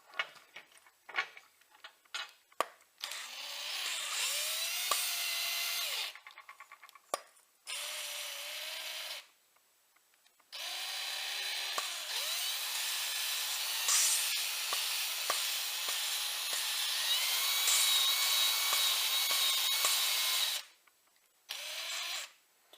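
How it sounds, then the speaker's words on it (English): A power drill lapping engine valves during valve seat repair whines in long sustained runs with shifting pitch, broken by brief silences and clicks between passes, close and loud. "now we'll start to lap the valves"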